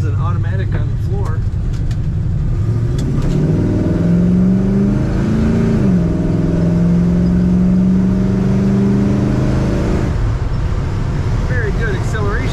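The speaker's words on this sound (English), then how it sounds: "Very good acceleration. Nice smooth ride on the highway." A 1964 Chevrolet El Camino with automatic transmission accelerating on the highway, its engine drone rising and holding steady under continuous loud road and wind noise, with a voice talking over it.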